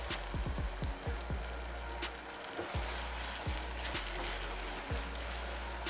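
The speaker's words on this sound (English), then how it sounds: "So we are frying now. Our onion is here, our pepper is here, our iru is here already." Onion, pepper and iru frying in palm oil, a dense continuous sizzle with crackling pops, close and steady throughout.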